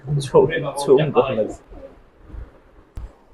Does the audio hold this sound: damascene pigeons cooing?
yes